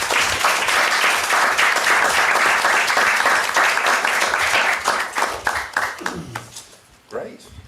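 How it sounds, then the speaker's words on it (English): A conference audience applauds a strategic panel on One Health and global warming, dense clapping that stays loud for about six seconds, then thins out and fades as a voice begins speaking near the end. "A round of applause for our panel."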